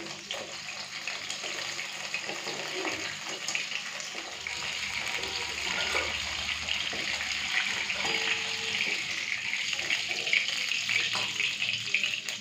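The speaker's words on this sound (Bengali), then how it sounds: "তো এখন তেলের মধ্যে ফোড়ন দিচ্ছি তেজপাতা, দারচিনি আর দিয়ে দেবো এলাচ আর লবঙ্গ" Bay leaf, cinnamon, cardamom and clove sizzle in hot oil left from frying fish, a dense, even hiss with small crackles that holds steady and grows slightly fuller over about twelve seconds, close and without talk.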